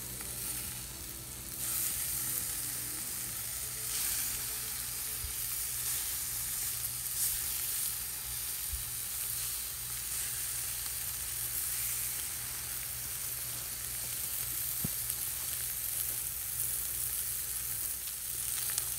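Bacon-wrapped butterflied venison backstrap sizzling on a grill just after being flipped, a loud steady hiss and crackle filling the whole stretch, close up, with a few faint knocks and no talking.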